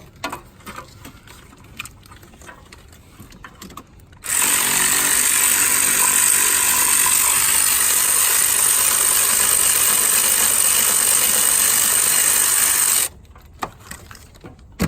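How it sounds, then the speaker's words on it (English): A power ratchet whirs loudly and continuously for about nine seconds while removing bolts from a Chevy/Pontiac/Buick 3.1, 3.4 or 3.5 liter V6 during a head gasket job, with quieter shop noise before and after. "And I'm going to use the power ratchet"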